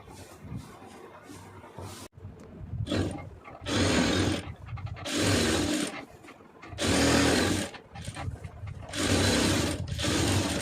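A sewing machine stitching a diamond-pattern seam across pieced fabric scraps for a door mat, running in steady loud bursts of whirring motor noise separated by short pauses, with no voices.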